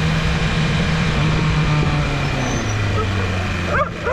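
A dog barks and yelps a few times near the end, set against a steady rumble of road and engine noise during an outdoor motorcycle riding lesson.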